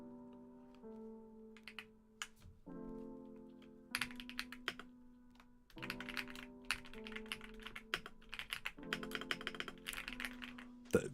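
Typing on a computer keyboard, a steady run of close, crisp key clicks in bursts with short pauses, heard alone without talk.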